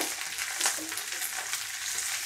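Beef and capsicum stir-fry in a hot pan with a constant close sizzle and occasional light stirring clinks, and nobody speaks.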